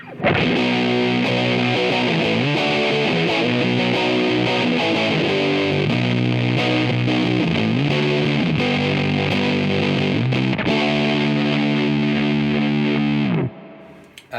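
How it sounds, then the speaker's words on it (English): Electric guitar played through a Big Muff fuzz distortion pedal in its normal mode, thick sustained fuzzy chords and riffs ringing loudly and continuously, then cutting off abruptly at the end. "At the moment I have it set just for a normal Big Muff mode, so let's have a listen to that."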